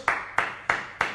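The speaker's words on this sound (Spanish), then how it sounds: "aplauso para ellos" Four sharp, evenly spaced hand claps ring out close by in about a second, a small applause for health workers during the coronavirus lockdown, with no talk over them.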